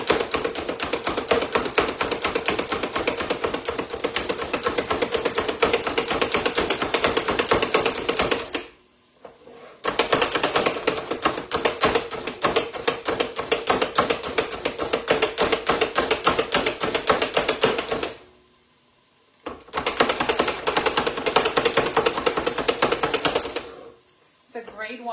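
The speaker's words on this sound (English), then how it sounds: "All right, let's chop this up." Knife chopping vegetables on a cutting board while making Gouda cheddar soup, a dense run of quick rhythmic taps in three long bursts separated by brief pauses, close and steady.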